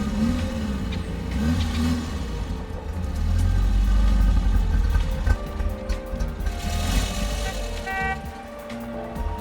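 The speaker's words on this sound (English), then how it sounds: "putting Rob's prize car back in the driveway" An old car with no power steering rumbles steadily as it is driven slowly back into a driveway, its engine swelling midway and then easing off, with faint tonal sounds in the background.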